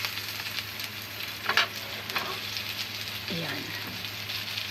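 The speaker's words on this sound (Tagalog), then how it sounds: "ginigisa ko na guys ang sibuyas at" Onion and garlic sauté in a pan with a steady, close sizzle that runs the whole time, and a few brief scrapes and clinks mix in. A voice speaks briefly over the frying.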